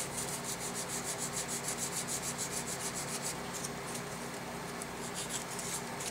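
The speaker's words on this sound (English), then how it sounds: "get some sandpaper and start doing it the old-fashioned way to clean things up and make it look good" Hand sanding a modified Sogzilla Wave knife with sandpaper, a steady back-and-forth rubbing rasp that continues without a break at moderate volume, with no talking.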